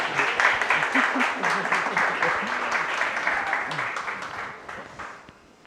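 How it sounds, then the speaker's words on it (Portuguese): Audience applause at an indigenous education talk in Curitiba, a steady dense patter of clapping throughout, fading toward the end, with faint voices mixed in underneath. "Palmas para ele, gente, por favor"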